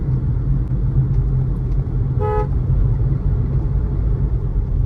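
Jammed road traffic past a toll near Ambience Mall in Delhi: a dense, steady engine rumble with one short car horn toot in the middle, and no voices.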